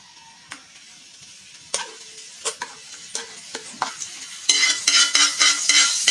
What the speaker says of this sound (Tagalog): Para pagisahan ng ating kunting mantika.